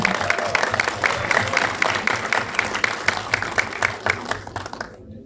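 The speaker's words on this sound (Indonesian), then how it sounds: "Boleh tepuk tangan teman-teman" Applause from an audience at a press conference for a horror film, steady dense clapping for about five seconds before it quickly dies away, with faint voices underneath.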